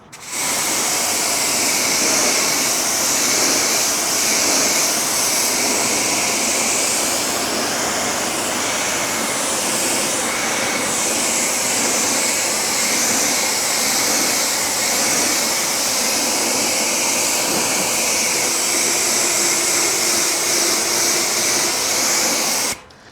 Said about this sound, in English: Let's go ahead and rinse this panel here.